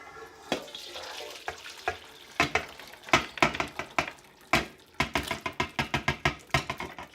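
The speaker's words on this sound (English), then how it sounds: "I'm going to tip the whole entire thing into a large bowl." Curry tipped from a pan into a large bowl, giving a run of soft scraping and knocking clatters with wet slops, close and moderately loud, with no talk.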